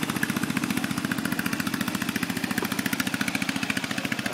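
Tourist boat engines chug steadily on the water below, a fast, even, continuous rhythmic putter heard from some distance with no voices.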